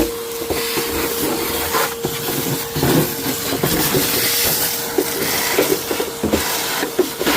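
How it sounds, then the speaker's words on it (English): A Harbor Freight shop vac cleans up a work area during rust repair on a Jeep YJ. It gives a loud, continuous whooshing roar, close by, with scattered thumps and rattles as debris is sucked in. "use this Harbor Freight shop vac and keep a nice"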